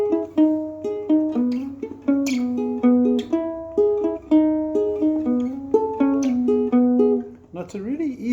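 A ukulele plays a song, close up and clear, with plucked melody notes and strummed chords in a steady bouncing rhythm, no voices, ending with a brief strum.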